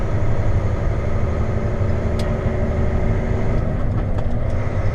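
A loud, steady heavy truck engine rumble through a horizontal exhaust, a deep drone throughout at constant speed, with a faint high click partway through.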